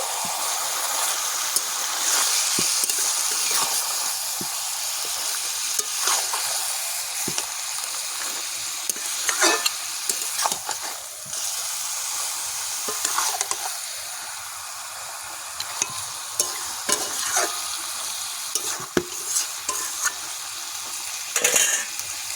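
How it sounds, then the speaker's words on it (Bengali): Bengali-style goat mutton curry being stirred in an uncovered pan, a constant hissing sizzle with scattered spoon scrapes and clinks that come in bursts. Close and fairly loud, with no talking. "ঢাকাটা খুলে নেড়ে নেব একটু।"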